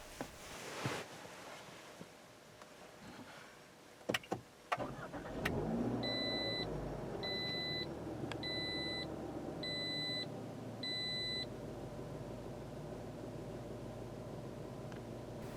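A 2018 Toyota RAV4 starts with push-button ignition: a few faint clicks and knocks, then the engine catches and settles into a quiet, steady idle, with a short series of electronic chimes repeating above it.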